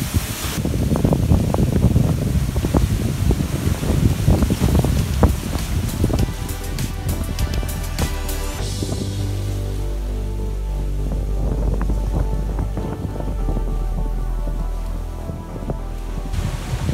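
Steady roar of wind and rushing water past a sailboat hull on a downwind run off the Spanish coast near Barbate, loud and continuous with no voices.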